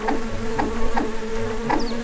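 Flies in the video game Secrets of Grindea buzz continuously and loudly with a droning tone that pulses at regular intervals, heard alone without speech.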